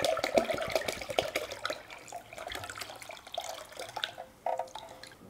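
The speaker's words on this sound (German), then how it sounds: "Jetzt kann man das abgießen." Rust-remover liquid pours off out of a motorcycle fuel tank during tank sealing, giving a steady close trickle and splashing with drips and gurgles that tail off and then surge briefly near the end.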